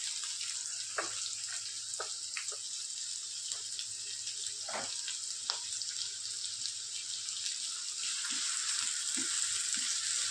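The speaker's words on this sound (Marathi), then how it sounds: "कांदा घालते," Chopped onion frying in hot oil in a pan, a steady close hiss and sizzle with scattered light pops and clicks of stirring throughout.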